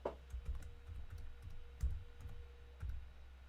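Typing on a computer keyboard, soft scattered clicks and short bursts of keystrokes, close and quiet, with no talking.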